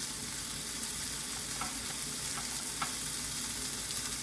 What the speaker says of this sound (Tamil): இந்த கொத்தமல்லியெல்லாம் நல்லா வதங்கட்டும்